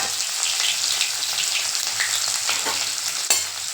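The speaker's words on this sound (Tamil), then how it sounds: "கடுகு நல்லா பொறிஞ்சிடுச்சு இப்போ இந்த பூண்டு இதில் போட்டுடலாம்" Crushed garlic, mustard seeds and a sprig of curry leaves sizzling loudly in hot oil, a dense continuous frying hiss with crackling pops and a sharp splutter near the end, no voices.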